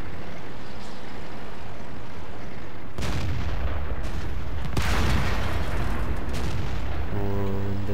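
A Tiger II tank cannon fires in World of Tanks, a single sharp boom at about three seconds followed by a broad rumbling decay, with a second burst around five seconds over continuous engine and battle noise.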